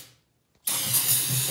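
Brake cleaner is sprayed onto a Honda oil pump. After a fading hiss and a short quiet gap comes a sudden loud, steady aerosol hiss, close up and continuing to the end.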